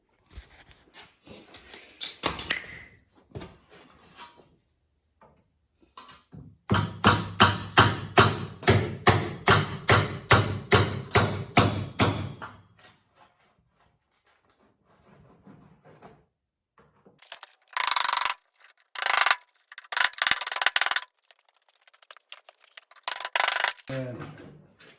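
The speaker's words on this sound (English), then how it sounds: "We're going to try to hit it with the weld buster" Pneumatic weld buster hammering on old tractor metal, a rapid burst of sharp repeated metallic impacts for several seconds, with scattered clanks before it and bursts of noisy air hissing afterward.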